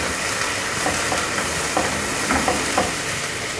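Ginger-garlic paste frying with onions in a pan, a loud continuous sizzle broken by a few scraping stirring strokes, with no talking.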